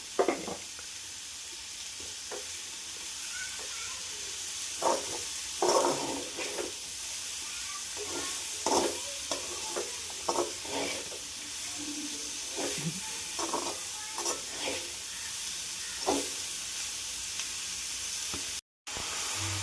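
Onions with a little salt sauté in a pan for fried rice, a soft continuous sizzle and hiss broken by intermittent scraping stirs and light clinks of the utensil, close by and unaccompanied by speech.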